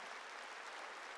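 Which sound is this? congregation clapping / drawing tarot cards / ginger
congregation clapping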